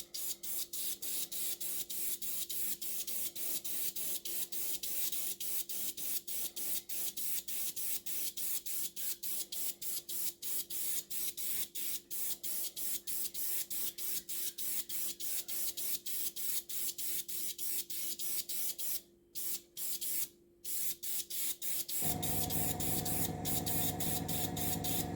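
A spray can lays a dust coat of paint onto a model Russian Navy Project 955 Dolgoruky submarine, a steady hissing spray pulsing in quick short bursts for over twenty seconds with two brief pauses.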